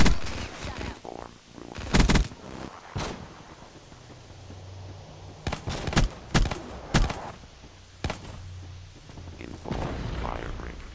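Semi-auto LMG fire in Black Ops 3 gameplay cracks out in loud, separate sharp shots, some in quick pairs and clusters, over a low game ambience with occasional rumbling effects.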